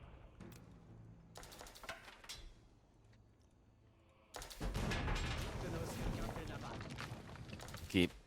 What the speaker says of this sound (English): cannons start to come out for Eric. Bombards are going to try to address them.